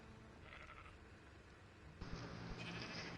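A goat in a video game bleats faintly twice, a short bleat early and a longer one near the end, over a steady noisy game background.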